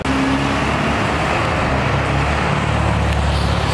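A steady roar of Porsche cars and other traffic passing on a busy street, a loud continuous engine and road rumble close by, with no voices over it.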